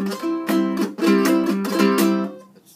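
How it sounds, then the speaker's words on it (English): A ukulele strummed upward with too many fingers snagging the strings, giving about five uneven, rattling chord strums in a loose rhythm, close and clear with no talking. "because if we use too many fingers on the way up, it sounds like this."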